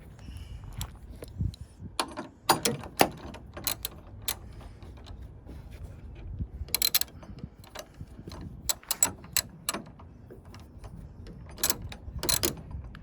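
Rapid ratcheting clicks come in irregular bursts as an Allen bit on a ratchet drives a replacement screw during a 2020 Ford F-150 tailgate assist install, close and fairly quiet with occasional louder clacks.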